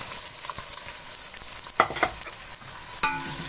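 Two onions sliced lengthwise fry in a cup of hot cooking oil, giving a steady sizzle with scraping and clattering stirring strokes throughout, heard up close with no voices.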